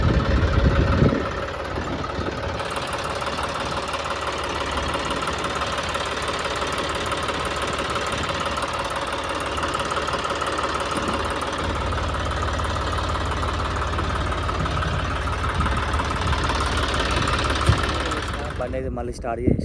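A diesel vehicle engine runs at a steady, loud idle with a knocking rumble throughout, fading away near the end.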